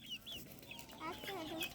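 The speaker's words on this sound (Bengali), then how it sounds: "ওই যে বাটি, ওই যে খাচ্ছে মুরগি," A chicken clucks softly while eating from a bowl, with short chirpy calls rising and falling against faint background noise and no voices.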